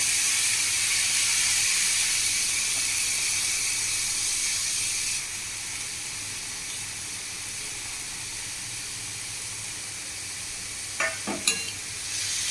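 Tomatoes go into hot oil in a home kitchen pan for a tomato upkari, giving a steady, bright sizzling hiss that eases partway through, followed near the end by a couple of brief metallic clinks.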